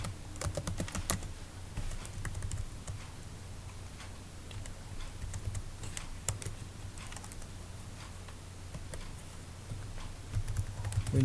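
Rapid, irregular clicking of keys on a computer keyboard as a code comment is typed, steady and close for the whole stretch over a low hum, with no talking.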